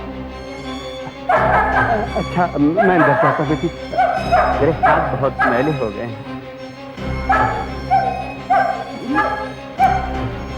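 A dog barks and yips repeatedly, with some whimpering, while people talk over it.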